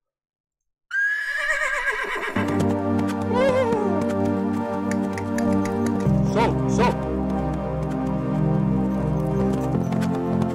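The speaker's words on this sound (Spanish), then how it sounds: "he puesto un fondico ahí de caballo. Mira, mira ahí cómo cabalgan" Horses neighing and galloping in background footage: a high whinny rises and falls near the start, then dense, resonant tones and hoofbeat-like patter blend in and continue under a loud layer.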